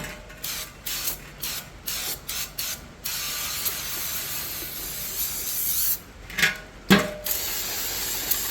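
Bursts of brake cleaner spray from an aerosol can, a string of short hisses early on, then a quieter stretch followed by a couple of louder, closer blasts, with shop clatter in between.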